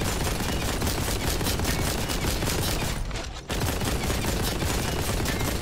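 Rapid, relentless bolt gun fire from Warhammer 40,000: Boltgun pounds close and loud in dense bursts, pausing briefly for half a second before the barrage resumes.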